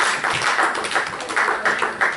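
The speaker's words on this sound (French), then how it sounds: "je vous demande de vous applaudir à vous-même" Applause fills a hall as an audience claps for itself, a dense, sustained wash of many hands with slight rhythmic swells and no talking over it.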